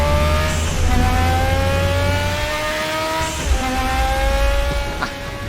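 A turbocharged race car engine in the Raceroom racing game revs high and loud through upshifts, with a brief turbo flutter as the throttle lifts, alone without talk.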